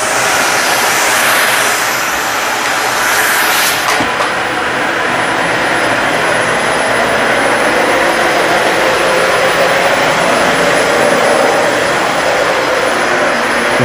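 A Dyson Slim Ball upright vacuum cleaner deep-cleans carpet with a loud, steady roaring whine that runs unbroken from start to finish, with one brief knock early on.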